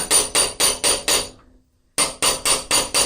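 A hammer forging a blacksmith's ram's head on an anvil, sounding as loud, close, evenly paced metallic strikes, five in a row, a brief ringing pause, then five more.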